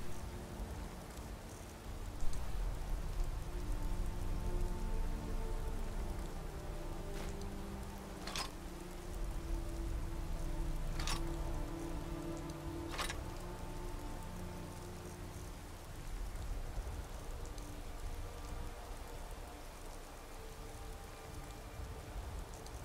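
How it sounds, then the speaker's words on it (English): Steady rain falls in the video game Skyrim, a soft, even hiss that continues throughout, with a few faint clicks and brief sharp ticks around the middle. "Ah, it's still raining."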